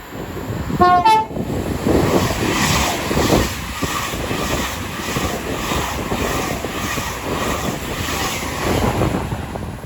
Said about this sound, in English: Soon to pass through now will be our Avanti West Coast going from Manchester Piccadilly to London Euston